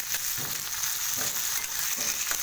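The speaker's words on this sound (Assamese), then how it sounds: "ফ্ৰাই কৰি উঠি মই ইয়াত দিছোঁ বিলাহীখিনি দি মই ইয়াত অকণমান লৰাই দিছোঁ" Tomatoes stirred into onion and chilli frying in hot oil, a steady broad sizzle with soft scraping stirs recurring every second or so, close and fairly loud, no talking.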